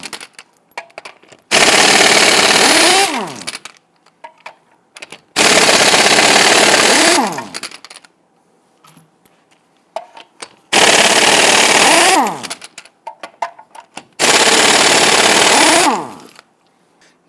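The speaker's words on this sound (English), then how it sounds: "Using a 21mm socket, let's loosen and remove our lug nuts." An impact wrench with a 21mm socket loosens and removes the lug nuts on a Toyota Tundra: four loud, rapid hammering bursts of about two seconds each, split by short gaps and ending in a falling whine as each nut spins free.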